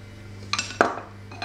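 A utensil clinks against a bowl while stirring an egg mixture with butter and oil for pastry roses, a few sharp, close metallic taps spaced irregularly over a faint hum.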